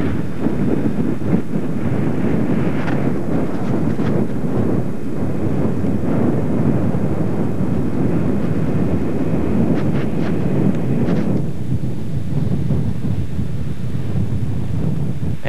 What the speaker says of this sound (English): it sure is windy.